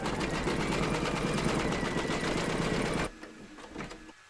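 An embroidery sewing machine stitches gold thread at a fast, steady mechanical whir, loud and close, then stops abruptly, leaving a few faint clicks and handling noises.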